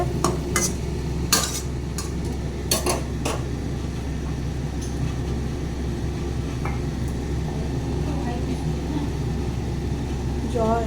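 Food frying in oil in a covered pan, a steady low sizzling hiss running throughout with occasional sharp clinks of a utensil against the pan.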